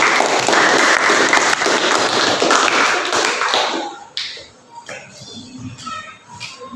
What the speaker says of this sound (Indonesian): Berikan aplaus untuk kelompok 2 atas jawabannya.